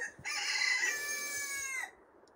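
A rooster crows once, a loud, close, drawn-out call with several harmonic bands that holds steady for over a second and a half, then stops, with no talk over it.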